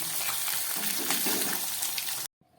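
Rohu fish sizzling in hot oil, a steady dense crackle of frying that runs on loudly, then cuts off abruptly as the pieces are lifted out, leaving a brief quiet tail.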